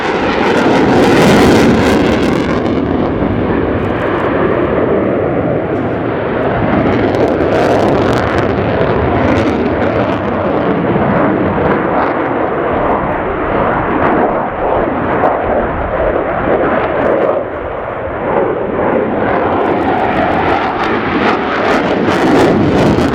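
A Ukrainian Air Force Su-27P1M Flanker jet in a flying display at RIAT airshow roars loudly and continuously overhead, a broad rumbling jet thunder that swells and shifts as it passes.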